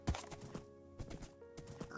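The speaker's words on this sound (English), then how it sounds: "What up, horses?" Horse hooves clip-clop in the Minecraft video game, a quick series of soft hoof clops over a faint sustained musical drone, with no talking.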